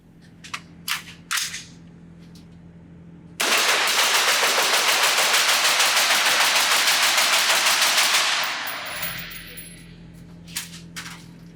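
Rapid rifle fire through an OSS HX-QD Magnum titanium flow-through suppressor, a full magazine emptied as fast as possible at a range: a dense, even string of suppressed shots lasting several seconds, with a few isolated shots and clicks before and after.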